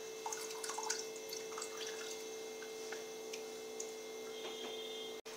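Whey drips from homemade paneer hanging in a cloth, with soft, irregular drops and small ticks over a steady low hum.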